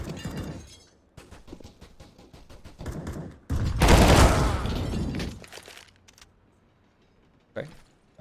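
A Counter-Strike firefight with gunfire, then a loud grenade blast with shattering debris, the noise tapering off to quiet with a last short burst.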